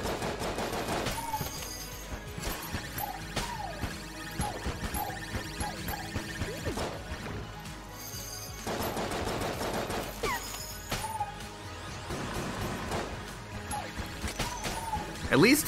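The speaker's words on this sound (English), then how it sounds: "Maybe it'll save some of you from just going crazy with the sound of the wind-up gun over and over" Rapid automatic gunfire from a wind-up gun in the video game Enter the Gungeon, bursts repeating over and over with crashes and a steady hum behind, while a voice talks over the action.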